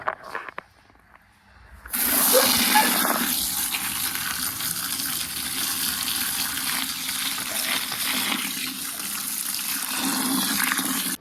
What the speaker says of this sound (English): get the hose and fill up the buckets